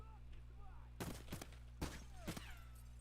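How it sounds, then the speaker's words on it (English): Gunfire in Escape from Tarkov, three sharp bursts of several shots each spaced about a second apart, fairly distant and faint over a steady low hum and background game sounds. "Player shooting, player shooting."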